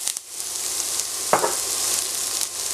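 Chopped onion hits hot oil already holding cinnamon and star anise for a Malaysian-style chicken curry, giving a steady, close sizzle with a soft drop sound partway through.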